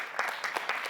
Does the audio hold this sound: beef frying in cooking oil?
no